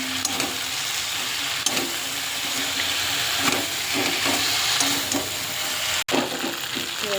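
Katla fish heads drop into spiced potatoes in a hot pan, setting off a steady, loud sizzle and hiss with soft stirring clatter and one brief break near the end.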